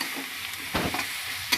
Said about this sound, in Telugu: దాని తర్వాత అల్లం వెల్లుల్లి పేస్ట్ వేద్దాం కొంచెం వేగిన తర్వాత.